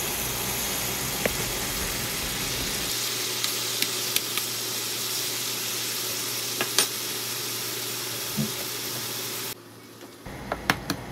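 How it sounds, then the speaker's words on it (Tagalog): Bacon fries in hot oil in a pan, a steady close sizzle with occasional small pops and crackles, briefly quieter near the end before the spatter returns. "kapag mainit na yung oil sa pan, ilalagay ko na yung mga bacon at start ko na silang prituhin"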